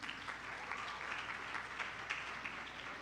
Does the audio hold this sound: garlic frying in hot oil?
no